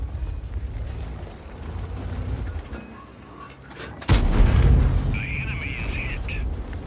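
A tank's main gun going off in World of Tanks, one sharp, loud boom that cuts through the game noise and leaves a rumbling tail, with someone speaking before it.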